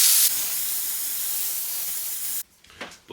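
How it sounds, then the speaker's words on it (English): A steamer blasting steam onto an old table to loosen residue: a loud, continuous hiss that cuts off abruptly, leaving quiet with a few faint bumps. "So what I've noticed is if I steam,"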